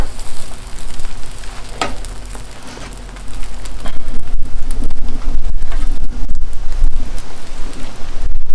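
Eggs sizzle on a Blackstone griddle in a breakfast cook of omelettes, with a steady, loud crackling hiss that continues throughout and grows a bit denser partway through.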